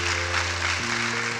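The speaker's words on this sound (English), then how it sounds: "Let's give them a round of applause." Audience applause at a Youth of the Year awards event in Napa County: a short, steady wash of clapping at moderate level, with sustained low tones running underneath throughout.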